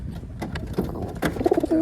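Pigeons cooing close by, a few soft throaty coos building toward the end amid light rustling and movement.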